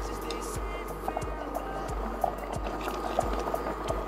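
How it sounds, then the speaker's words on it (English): Semolina (rava) being stirred into boiling water in a pot, giving a continuous bubbling, sloshing wash with small periodic scraping strokes against a steady low hum. "Add the rava and start stirring, so it doesn't form the lumps."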